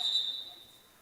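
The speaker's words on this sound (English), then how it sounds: "And we already have a whistle." A referee's whistle at a girls' high school basketball playoff game gives one short, shrill blast that fades quickly against faint gym background.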